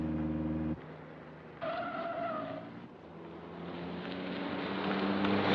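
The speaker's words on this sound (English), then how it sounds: "There's a car following us." A car on a mountain road drives with a steady engine drone and tire noise, changing tone partway through as a higher whine rises, then building into a louder rushing roar, with no talk.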